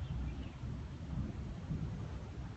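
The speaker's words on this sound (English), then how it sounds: "Did you hear the thunder?" Low, continuous rumbling of distant thunder rolling on for a few seconds, with a steady wash of rain or wind noise over it.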